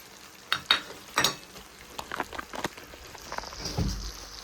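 Amla pickle is stirred in a pan with fried ground spices and black salt. Quiet, close scraping and clicking strokes come in an irregular series, with a faint sizzle beneath.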